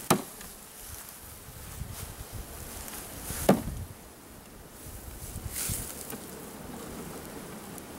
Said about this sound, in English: I'm just going to get these bees over here.